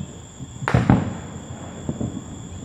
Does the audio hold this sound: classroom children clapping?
no